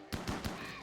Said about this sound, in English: Oh, I love chain shotguns. I felt that in my core.